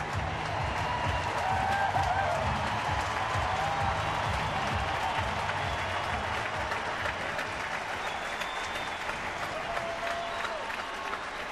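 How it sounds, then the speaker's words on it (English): A large baseball stadium crowd applauds in acknowledgment of Angel Pagan at a San Francisco game, a sustained, broad roar of clapping and cheering that holds steady before easing slightly. "Crowd acknowledging Angel Pagan."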